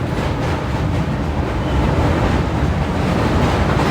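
Darshan Express train crossing the North Vaitarna river, a dense, continuous roar of wheels and rushing air, loud and steady for the whole stretch with no voices.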